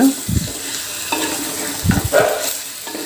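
Chicken pieces being stirred and tossed with masala in a pan for a Tamil-style chicken gravy, with a few scraping stir strokes over a soft sizzle, close and fairly loud, no talking.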